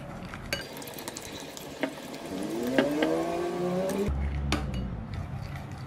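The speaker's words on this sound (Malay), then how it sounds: "Mula-mula sos tauco dilarutkan dengan sedikit air." Soybean paste sauce being stirred and dissolved with a little water in a pot, a steady scraping swirl with occasional utensil clinks against the pan, close and alone.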